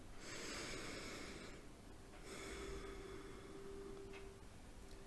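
Slow, deep breaths in a guided breathing exercise: two long, airy inhalations or exhalations with a soft pause between them, close and steady, with no talking.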